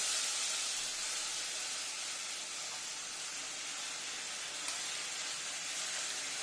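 Lentils tipped into a hot pan with chilli powder while cooking bhuna khichuri with chicken, giving a steady broad sizzling hiss that holds evenly throughout, close and moderately loud, with one brief crackle near the end and no talk.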